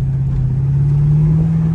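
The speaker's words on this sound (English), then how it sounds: "That exhaust sounds really good. Nice low tone to it." Mercedes SL500 with a Lorinzer kit cruising, its exhaust a steady deep, low droning hum that holds close and even throughout with no talk.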